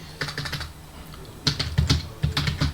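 Rapid typing on a computer keyboard during a typing test, with bursts of close, crisp key clicks separated by short pauses.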